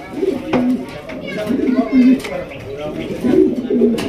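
Jacobin pigeons coo in a low, rolling series of throaty calls close by, repeating over and over while someone talks over them.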